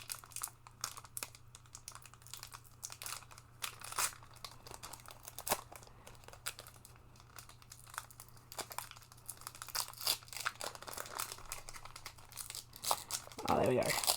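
Trading card booster packs are torn open by hand, with crinkly foil rustles and short tearing bursts throughout and a sharper rip at the end, all under intermittent talk.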